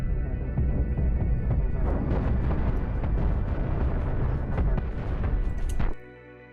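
Large cannons fire in the spaceship-building game Cosmoteer, a dense, loud barrage of booming blasts and explosions rolling continuously for several seconds before cutting off abruptly.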